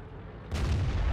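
A tank cannon in the World of Tanks game fires a single heavy, booming shot that starts abruptly and rolls on loudly with a deep, sustained rumble to the end.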